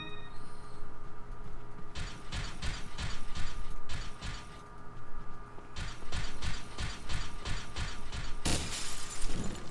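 In the Resident Evil 4 video game, glass breaks in a bright, loud shatter near the end, after long stretches of rhythmic mechanical clanking and ratcheting that pulse in regular bursts.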